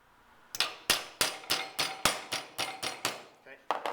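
A hammer strikes a metal figure's leg clamped in a vise, about ten sharp ringing blows at a steady rhythm roughly three per second, close and clear, with a short pause before a final pair.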